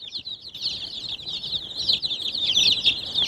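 Leghorn and Australorp chicks crowded in a cardboard box, their high, dense peeping chorus chirping continuously and close up, growing slightly louder toward the end.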